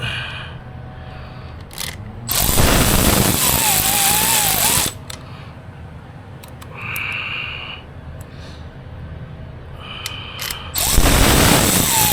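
A hand ratchet tightens bolts on a Honda Grom motorcycle, clicking rapidly in two loud, close bursts of several seconds each, with quieter workshop handling and faint squeaks between them.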